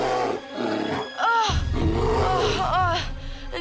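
A deep, rumbling growl rises and falls in a couple of drawn-out bursts, loud and close, with voices mixed in around it.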